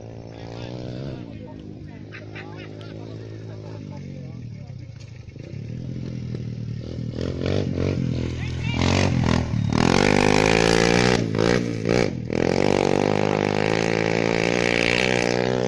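A motorcycle ridden near Mount Bromo gives a rough engine rumble. It starts steady, then swells into louder revving with clattering and scraping bursts, and voices are heard over it.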